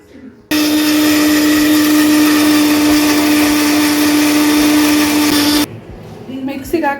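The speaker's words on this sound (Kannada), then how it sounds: "ಸೊ ಈಗ ಇದನ್ನ ಗ್ರೈಂಡ್ ಮಾಡ್ಕೊಳ್ಳೋಣ." A kitchen mixer grinder whirs steadily as it blends aloe vera gel with a little water, a loud continuous motor drone with a sharp steady whine, starting abruptly and cutting off after about five seconds, followed by faint household sounds.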